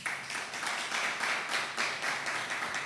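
A church congregation giving a round of applause, with steady, dense clapping at a moderate, somewhat distant level throughout.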